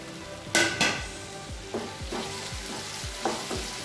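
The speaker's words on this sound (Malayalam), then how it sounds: "നന്നായിട്ടൊന്ന് വഴറ്റിയെടുക്കുക" Chopped tomatoes sautéed in a hot oiled pan for a potato masala, with a loud sizzle that gives way to a spatula scraping and stirring in steady, repeated strokes close by.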